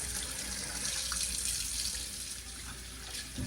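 Running water pours steadily into a kitchen sink as rinse water drains off raw chicken, a close, continuous splashing with slight swells in flow.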